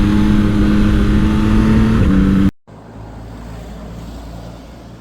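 Yamaha MT-09 SP 2024 motorcycle engine droning steadily with a tonal hum during a ride on a wet forest road, then cutting abruptly to a quieter rumble with wind noise.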